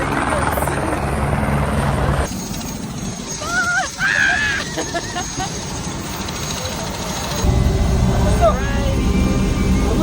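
A helicopter at a Himalayan landing spot on the Everest Base Camp trek runs steadily throughout, its rotor and engine roar filling the background while people talk nearby and wind noise rises toward the end.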